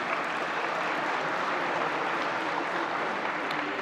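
Broad, even applause from an audience at the opening session of a forum in Lisbon, a continuous wash of clapping heard from a distance with no clear individual claps standing out.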